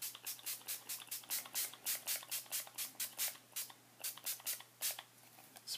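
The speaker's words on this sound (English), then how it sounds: "spray it on there, get it nice and beaded." Rapid bursts of a spray bottle hiss in quick succession, about two dozen short misty sprays, close and fairly quiet over a faint steady hum.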